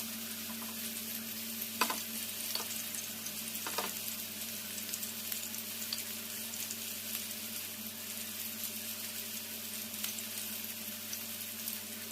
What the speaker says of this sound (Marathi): सुरमईला ब्राऊन कलर येईपर्यंत फ्राय करायचे.